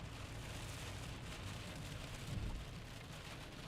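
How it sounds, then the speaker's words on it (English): Steady, faint rain from a nighttime thunderstorm hisses continuously, with a soft low rumble of distant thunder swelling briefly midway. "are just good old-fashioned thunderstorms tonight that are noisy and are bright"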